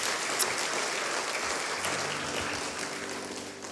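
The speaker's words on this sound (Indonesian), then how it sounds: "tepuk tambah kaum Bapak dulu" A church congregation at a Christmas service breaks into brisk, full clapping that carries on steadily, with a faint low hum emerging toward the end.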